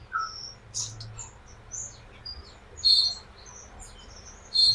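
Magpie-robin chicks in an aviary give scattered short high chirps and tweets, several brief calls spaced across a low hum of background noise, fairly faint and without any voices.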